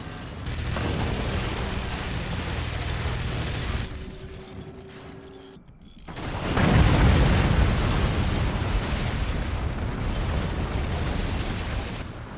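Cannon barrage and explosions in the video game Forts: a sustained roar of blasts, a brief dip in level, then a heavier booming burst that rumbles on loudly to the end.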